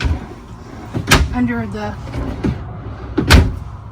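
Big storage drawers in a Thor Chateau 31EV Class C motorhome slide and knock shut in a couple of short, sharp bursts, close by and mixed in with someone talking.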